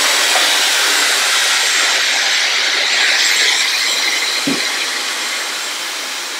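A handheld hair dryer blows on long hair, giving a steady, loud, continuous whooshing rush of air that holds evenly throughout with no talking.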